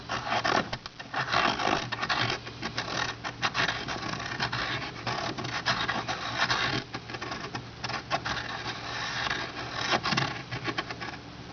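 A Staedtler 502 lead pointer is twisted around pencil lead in continuous close gritty scratching and grinding, with a steady patter that runs throughout and is slightly uneven in loudness.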